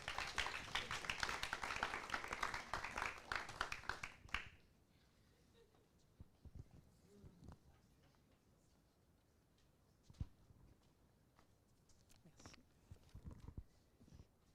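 Audience applause breaks out at a festival award ceremony, a dense burst of clapping for the first four seconds that then dies away to scattered claps and light taps in a quiet hall.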